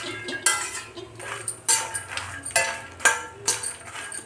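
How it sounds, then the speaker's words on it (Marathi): Fox nuts (makhana) are roasted in a little ghee in a pan, and a spoon scrapes and clinks against the metal in brisk repeated strokes, close and alone. "तर थोडं तूप आहे, याच्यात आपण मखाने भाजून घेऊ."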